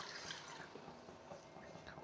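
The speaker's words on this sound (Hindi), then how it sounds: "अब मैं 4 से 5 टेबल स्पून इसमें पानी डाल के" A few tablespoons of water poured into moong dal cooking with masala, a soft, close trickle and splash that is brief and faint, with no talk over it.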